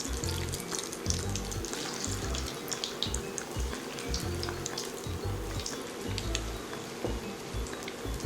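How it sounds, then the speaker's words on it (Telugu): Fish kofta balls fry slowly in hot oil until browned, giving a steady close sizzle and crackle that runs the whole time with no talking. "బాగా ఫ్రై చేసుకోవాలండి, బ్రౌన్ కలర్ వచ్చినంత వరకు నెమ్మదిగా మనము ఫ్రై చేసుకోవాలి"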